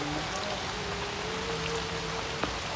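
Steady rain falls on a mountain trail at Gunung Kramat Munara, a constant close hiss of drops with a faint tonal hum running beneath it and a single sharp tap near the end.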